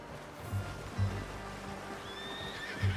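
A horse in the video game Red Dead Redemption 2 whinnies with a rising, drawn-out call over low rumbling hoof thuds and soft background ambience.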